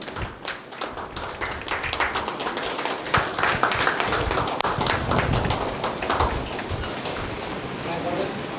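Standing audience at a Lions Club installation ceremony giving sustained, dense applause, many hands clapping loudly and continuously for several seconds in a hall, with a voice heard faintly beneath.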